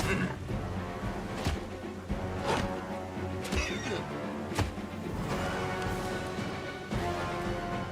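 Repeated horse whinnies ring out in Pathfinder: Wrath of the Righteous during a battle, over a busy, continuous background with clattering and occasional sharp impacts.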